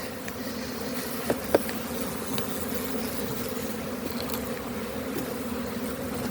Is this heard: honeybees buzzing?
yes